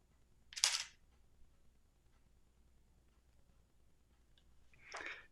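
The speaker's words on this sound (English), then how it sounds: "if I look at it and take a selfie" A Canon EOS R10 mirrorless camera takes a selfie, giving two quiet, brief mechanical clicks several seconds apart in a near-silent room.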